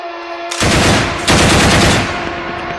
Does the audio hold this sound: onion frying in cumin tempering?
no